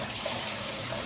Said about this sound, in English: Wash your rice like 5 times until you get that clear water on your rice.